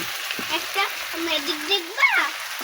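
Chicken pieces frying in a pan of spice masala give a steady sizzle with light stirring scrapes, with a voice talking faintly over the cooking.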